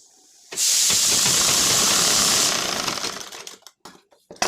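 A sewing machine stitches blouse fabric with four tucks in a fast, steady whir for about two seconds, then slows and stops in a few uneven bursts; no one speaks.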